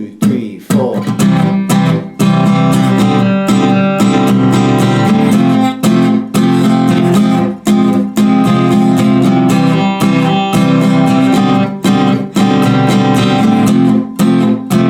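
Acoustic guitar playing the strumming pattern of a song at full speed, loud and close, with a steady, rhythmic string of chord strokes and brief muted gaps between them.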